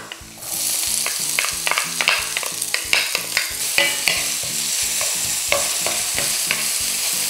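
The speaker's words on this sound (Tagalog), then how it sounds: "At igigisa ko lang ito hanggang sa lumambot na yung sibuyas." Chopped onion sautéing with browned garlic in a hot pan for kare-kare, a steady sizzle broken by frequent spatula scrapes and stirring clatter, close and loud throughout.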